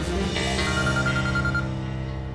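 A melodic phone ringtone plays steadily, a bright electronic tune repeating its notes over a low background hum.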